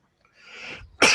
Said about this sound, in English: pardon me for my coughing